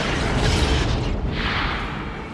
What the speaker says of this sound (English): And as the saucer accelerates away from the body explodes behind them.